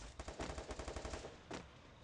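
Rapid automatic gunfire in the mobile shooter game Free Fire, a fast burst of about a dozen shots followed by a single louder shot, heard alone without talk.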